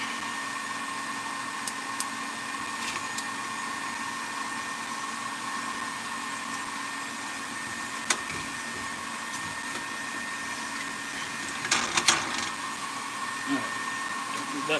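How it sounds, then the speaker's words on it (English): A printer runs steadily through a maintenance job, giving a continuous whirring hum with a few brief clicks and knocks around the middle and near the end. "Just doing some printer maintenance."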